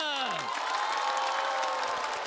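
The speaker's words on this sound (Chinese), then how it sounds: "我们掌声欢迎房主任" A stand-up comedy stage audience breaks into sustained applause to welcome a performer, a dense, even wash of clapping with a brief electronic swoop at the start and faint cheering inside the crowd noise.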